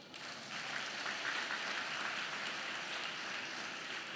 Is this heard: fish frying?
no